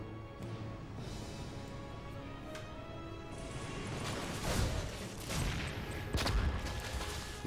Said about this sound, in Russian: Гранатка взрывается.